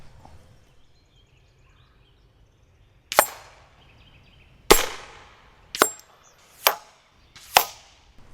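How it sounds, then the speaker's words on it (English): An air rifle firing .25 FX Hybrid Slugs at targets outdoors: five sharp, loud cracks spaced a second or so apart after a quiet start, each followed by a short fading tail. "Ryan, I think it's time to load up and get some shooting, right?"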